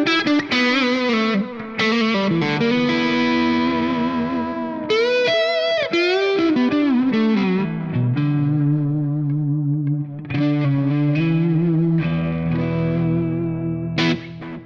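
Electric guitar played through a BOSS JB-2 Angry Driver overdrive pedal, blending Angry Charlie and Blues Driver sides at lower gain, rings out as sustained distorted chords and bends with short pauses between phrases.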